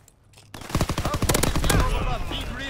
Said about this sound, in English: Dude, that shotgun!